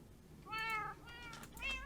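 Cats meowing in Minecraft, two soft, slightly drawn-out mews close together followed by a third short meow, quiet and alone against a faint low background hum.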